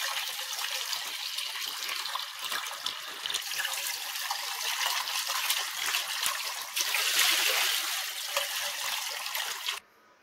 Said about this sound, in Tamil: இப்போ இதை நம்ம ரன்னிங் வாட்டர்ல வாஷ் பண்ணிடலாம்.